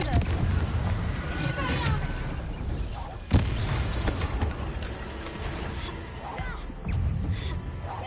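Confringo fire spell blasts in Hogwarts Legacy, a loud booming explosion near the middle over a constant rumbling game background, with a brief spoken word.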